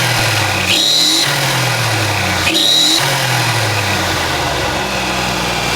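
A stock Nissan 300ZX engine runs loudly and steadily at idle, with a couple of brief revs rising and falling, close by.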